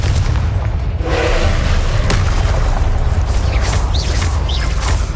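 The Confringo spell in a Harry Potter game sets off a blast, a dense booming roar with a sharp crack in the middle, loud and sustained over constant combat noise.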